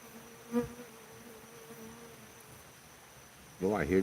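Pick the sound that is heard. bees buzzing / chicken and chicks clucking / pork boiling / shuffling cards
bees buzzing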